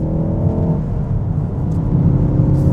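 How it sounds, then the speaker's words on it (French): Exhaust of a 2019 Ford Focus ST 2.3 L EcoBoost 280 hp in sport mode while driving, a loud, close, throaty drone that rises in pitch as the engine revs. "Là, vous l'entendez au niveau de l'échappement."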